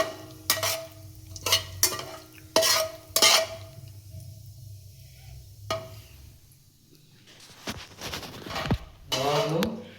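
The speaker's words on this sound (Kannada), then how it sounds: "ನೀಟಾಗಿ ನಿಧಾನಕ್ಕೆ ಲೋ ಫ್ಲೇಮಲ್ಲೇ ತಿರುಗಿಸ್ಕೊಳ್ಳಿ" Tempering spices are stirred in hot oil over a low flame for veg pulao, with sharp metallic spoon-on-pan scrapes and clinks in bursts, a quiet sizzle beneath, and a faint voice near the end.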